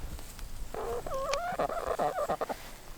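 Chickens cluck and chatter close by at a pile of wood shavings in a backyard coop area, a burst of short clucks rising and falling over a quiet background.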